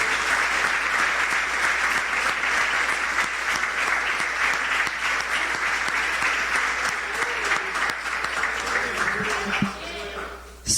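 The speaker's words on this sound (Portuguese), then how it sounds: "Vamos aplaudir ao Senhor pela sua palavra." A church congregation claps for the Lord after a sermon reading, a full, even roll of applause lasting about ten seconds before fading, with faint voices underneath and a brief sound as it ends.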